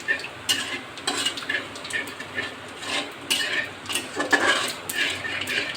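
Cumin seeds and two bay leaves sizzle in hot oil for a Bengali tempering, with a steady close frying hiss and spoon scrapes and stirring clinks against the pan, and no talking.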